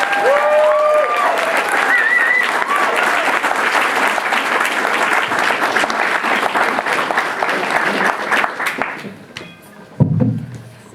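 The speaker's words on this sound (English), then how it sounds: "give a warm round of applause for our friend Zahir Mousa" Warm audience applause welcoming poet Zahir Mousa at a poetry event, loud dense clapping with a few whistles and cheers early on, fading out near the end before a brief thump and a voice begins.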